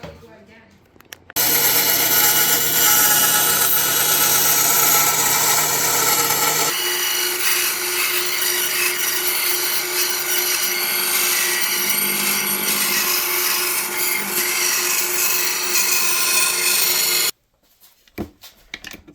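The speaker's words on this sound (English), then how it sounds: "I love using a bandsaw. It's so easy using a bandsaw." A bandsaw cuts through a piece for a custom lamp built from scale model trucks, a loud continuous buzzing whine that starts abruptly, shifts pitch partway as the blade works the material, then stops sharply and leaves faint noise behind.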